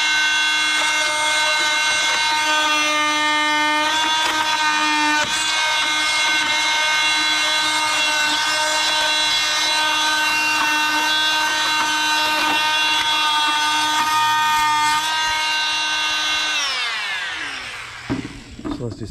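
Rockwell Sonicrafter oscillating multi tool cutting into a weld, a loud steady high-pitched buzzing whine held for many seconds before winding down at the end.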